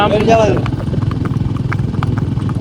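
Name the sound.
horse (mare) hooves clip-clopping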